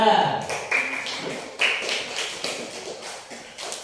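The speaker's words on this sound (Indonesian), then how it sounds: "Tepuk tangan untuk kelompok 2" Clapping for group 2 in a classroom lesson, a series of uneven claps and taps in short bursts, close by, with a voice talking at the start.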